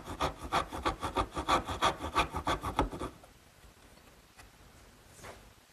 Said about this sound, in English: Now using my bandsaw, I've made a couple cuts to give me the correct tenon height,